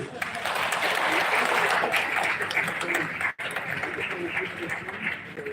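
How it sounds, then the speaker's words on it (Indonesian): Sustained audience applause at a digital transformation conference, a steady wash of many hands clapping at moderate volume, briefly broken by a sharp dropout before continuing, with some voices mixed in. "Tepuk tangan dulu."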